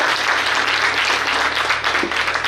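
Applause from an audience at a school alumni get-together, a dense steady clapping that fills the space evenly from start to finish, with no voices standing out.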